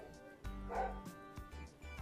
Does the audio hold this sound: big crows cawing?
no